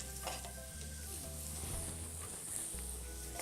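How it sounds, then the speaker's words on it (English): A pat of butter melting in a hot pan over medium-high heat gives a steady, soft sizzle and crackle with faint popping, continuous and fairly quiet, with a low hum beneath. "Return the pan to the medium-high heat and we'll add our pat of butter to melt"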